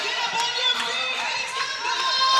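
A packed home gym cheers for the Owensboro Thoroughbreds basketball team, a loud, steady roar of voices and whistles that holds throughout and rises slightly at the close.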